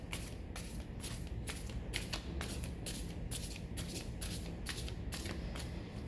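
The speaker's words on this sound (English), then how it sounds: "these cards are quite elastic, so I can use this method to mix them" Elastic tarot cards shuffled by hand, with a rapid, regular series of crisp riffling flutters repeating about twice a second, close and fairly quiet, with no talk.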